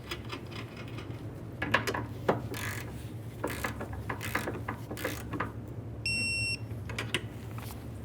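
A ratchet wrench clicks as a 13mm nut is tightened on the AC condenser line of a 2002-2009 Chevrolet Trailblazer 4.2L L6, quick bursts of close metallic clicks with clanks and a brief electronic beep in between.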